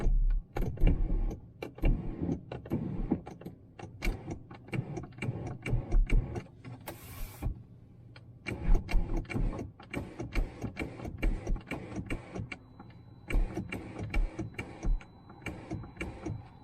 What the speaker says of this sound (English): The sunroof works, but really not that good.